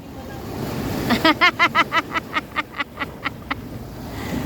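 Rough sea surf at a seaside gives a steady, loud rushing roar throughout, with a quick series of about a dozen squeaky, tonal pulses rising over it in the middle.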